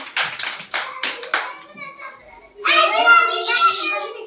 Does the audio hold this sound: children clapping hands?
yes